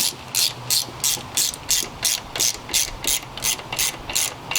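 Ratchet clicks while tightening the valve cover bolts on a Honda K series engine: about fourteen crisp, evenly spaced bursts of ratcheting, close and loud, with no talking.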